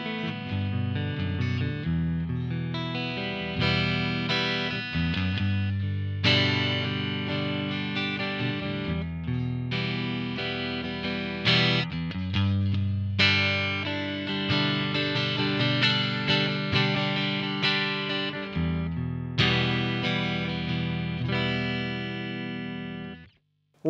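A Strandberg Boden Standard NX 6 electric guitar on its neck pickup plays through a Synergy Syn50 preamp with a Friedman module, a full driven tone with chords and runs, steady and close for about twenty seconds without talk.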